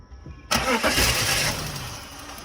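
A car at a towing auction cranks during a jump start, an engine noise that starts abruptly, loud and close, then churns steadily and slowly fades, with no talking.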